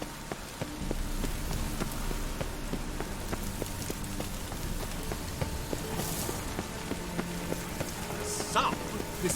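Rain falls steadily in The Witcher 3, a continuous patter of drops hitting surfaces with scattered sharper ticks, accompanied by soft footfalls and faint background game tones.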